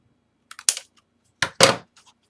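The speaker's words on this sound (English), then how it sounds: "I'm going to cut that little piece off" Scissors cut a small piece of paper during mini album crafting, two short crisp snipping bursts, close and alone in a quiet room.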